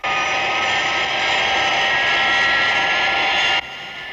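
Aircraft engines roar loudly and steadily during a takeoff roll, a dense sustained whine and rumble that cuts abruptly to a lower level near the end.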